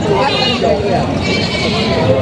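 An upgraded buck goat bleats at a livestock market in Padre Garcia, Batangas, repeated wavering cries close by, with people talking loudly over and around them.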